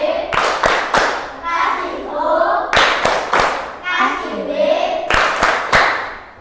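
A classroom group of teacher trainees doing the rhythmic 'tepuk wow' clap: sharp bursts of hand claps in a repeated pattern, each set followed by the group chanting together, loud and near, cycling about three times.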